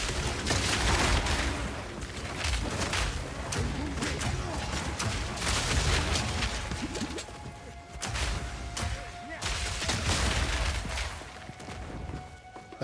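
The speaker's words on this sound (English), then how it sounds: "I like that these detonate on impact." Grenades burst on impact in Path of Exile 2, a dense, loud run of blasts, crashes and whooshes that rolls on almost without pause, easing briefly before another volley of explosions.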